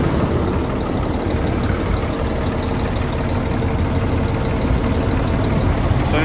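An old White International truck engine runs steadily nearby, a continuous low, rough rumble with no talk over it.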